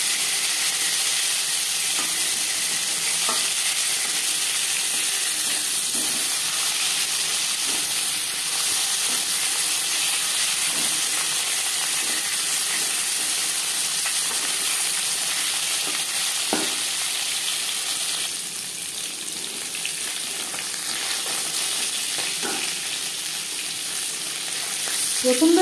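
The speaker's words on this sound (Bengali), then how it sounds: "একটা সাইড ভাজা হয়ে গেলে অপর সাইডটা উল্টে দেবো।" Fish pieces fry in hot oil in a pan, a constant loud sizzle and crackle with faint occasional taps and spits, continuing without talk.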